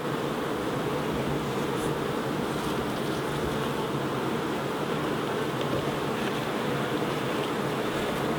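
Honey bees hum steadily around an open hive during late-season beekeeping work, a dense, even buzz at close range that holds without a break from start to end, with no voices over it.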